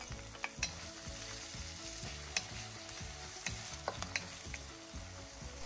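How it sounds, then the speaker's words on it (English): Onions sauté in about three tablespoons of cooking oil in a pan, with a continuous hissing sizzle and a fast, regular scraping and tapping of a utensil stirring them, plus a few louder clinks. "Using the same pan, add 3 tablespoons of cooking oil. Then add the onions."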